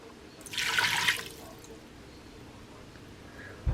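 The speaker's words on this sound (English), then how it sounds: "we're going to add 1 cup of water." A cup of water poured into a cooking pot in a home kitchen, a short splashing pour of about a second that then fades to quiet room noise.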